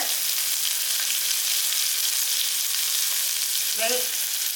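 Onion, green chili, curry leaves and carrot sizzle steadily in a hot pan, a loud continuous frying hiss, with a short scraping stir near the end.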